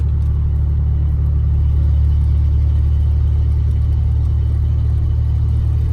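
A Chevrolet S10 4x4 pickup truck drives along after a radiator replacement, giving a loud, unbroken low engine rumble and road drone with no voices over it.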